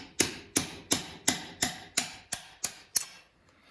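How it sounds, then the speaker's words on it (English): Shock spanner nuts on a dirt bike's rear suspension are struck loose with about nine sharp metallic hammer-like taps in an even rhythm, close and loud, fading slightly toward the end. "we'll go ahead and loose these spanner nuts."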